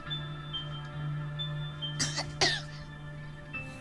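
Two quick, harsh coughs close to the microphone, separated by a short pause, over a steady low electrical hum.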